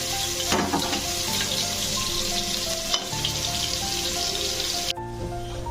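Three green chillies fry in a pan with a steady sizzle, heard under a tonal background of music and a brief watery splash, with no talking.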